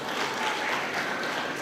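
Brief, steady, fairly soft applause from a gathered crowd at a ceremony as named honorees come forward, a smooth wash of many hands clapping at once.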